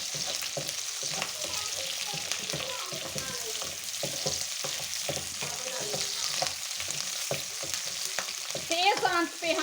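Vegetables and capsicum stir-fried on high heat crackle in a constant sizzle, broken by frequent clanks and scrapes of a spatula tossing them, and no voices are heard.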